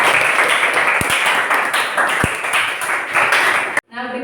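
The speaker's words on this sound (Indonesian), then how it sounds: "Tepuk tangan untuk kelompok 3 ya." A classroom of students applauds a group presentation, a dense, loud wash of clapping with a couple of sharp knocks, ending in an abrupt cut and a brief faint tone.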